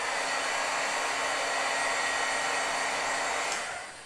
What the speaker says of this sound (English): Then I'm going to heat set this again.